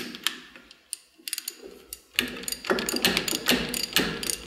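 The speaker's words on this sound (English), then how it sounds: "We'll then use the holding tool to tighten up on that nut." Ratcheting clicks of a holding tool and wrench tightening a differential drive pinion nut, quiet at first, then a steady run of close metallic clicks and ticks, with no talking.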